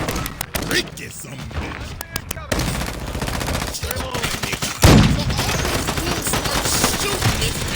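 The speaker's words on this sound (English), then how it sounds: "Shooting this man, and this man is taking no damage at all." Sustained automatic machine gun fire in a shooter video game, rapid and continuous throughout, with a loud burst at the midpoint and someone talking and shouting over the gunfire.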